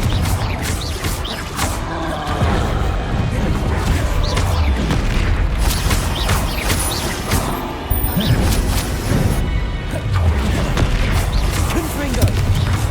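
Confringo fire spells blast repeatedly during Hogwarts Legacy combat, with dense, loud booms and crashes layered over constant battle noise and rumbling for the whole stretch.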